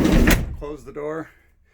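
A Sprinter van door slams shut with a single loud, broad thud, and a voice speaks briefly right after.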